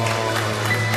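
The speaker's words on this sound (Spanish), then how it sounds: "Un aplauso por la emoción." An audience at a surprise performance with an orchestra applauds in a brief, steady wash of clapping, moderately loud and continuous, with a low hum beneath it.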